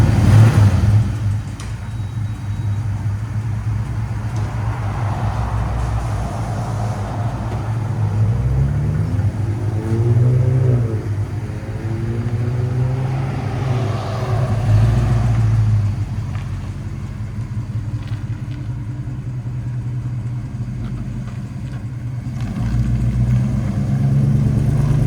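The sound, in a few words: 1971 Ford F100 V8 360 engine revving, headers, Flowmaster exhaust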